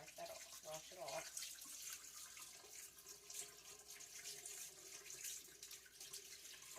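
Tap water runs steadily into a sink while flour-covered hands are rinsed after making pizza roll dough, a continuous close hiss with a few splashy surges.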